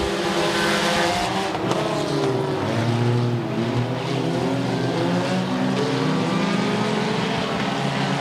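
Stock cars racing at US 30 Speedway, a roaring pack of engines rising and falling in pitch as they pass, loud and continuous with no talk.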